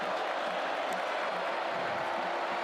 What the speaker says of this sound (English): Crowd here at Scott Stadium getting involved.